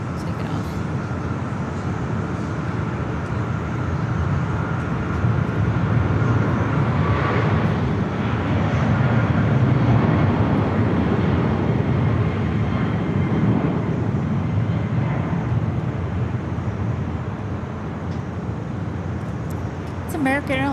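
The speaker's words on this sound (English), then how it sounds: "It's American Airlines 2811 heading off to Dallas DFW. Boeing 777-200" An American Airlines Boeing 777-200ER jet taking off from LAX, bound for Dallas, gives a steady, loud broadband roar that swells around the middle and holds throughout, with talk over it.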